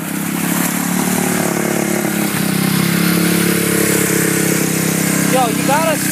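A Warrior 350 ATV engine revs loudly and steadily at close range, its drone rising and falling as gears shift, while someone shouts over it.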